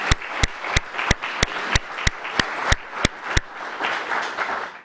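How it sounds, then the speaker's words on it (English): Evenly spaced sharp claps, around a dozen in steady rhythm, ring out at a city's State of the City address, then fade into a softer wash of applause from the audience. "Let's give you a round of applause."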